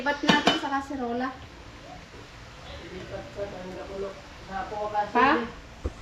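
Metal utensils clatter against dishes and a cooking pot as food is moved into a casserole pot, in short clinking bursts at the start and end, with a person talking over them.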